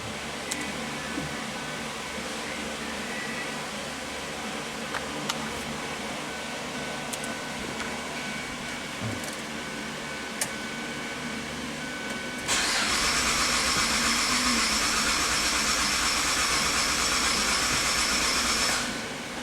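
A 2009 Suzuki XL-7 with a snapped timing chain cranks over on the starter while trying to run on two cylinders, a steady uneven churning that turns sharply louder and harsher partway through.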